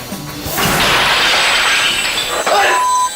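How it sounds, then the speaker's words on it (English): A camera smashed in a fit of rage, a loud crashing impact that bursts in near half a second and fills most of the clip with harsh, sustained breaking noise, briefly dipping before another sharp hit near the end. "He grabs his roomie's camera and smashes it."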